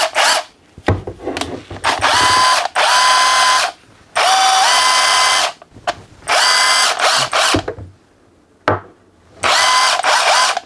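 A Kimo 20V cordless 1/2 inch impact wrench runs in several loud, close bursts of rapid hammering rattle and whine, separated by brief pauses, with one short blip near the end.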